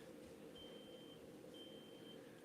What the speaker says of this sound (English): It sounds like a smoke detector or something.